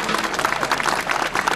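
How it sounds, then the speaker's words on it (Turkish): Wedding guests at a traditional Bursa wedding clap together in a brief, dense burst of applause with crowd murmur underneath, close and fairly loud. "hayırlı olsun, alkışlıyoruz."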